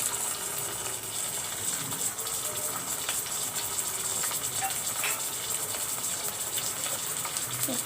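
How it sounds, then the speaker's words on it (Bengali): Prawns fry in hot oil, giving a continuous loud hiss and sizzle with small crackles throughout. "আমি চিংড়ি মাছগুলো একটু তেলে ভেজে নিব।"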